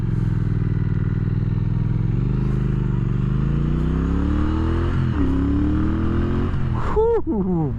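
A 2017 Triumph Thruxton R motorcycle engine revs up loudly and continuously, its deep drone rising in pitch as the throttle opens, with a sharper surge of rising engine tones at the end.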